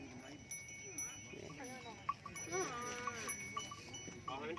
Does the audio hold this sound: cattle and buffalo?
yes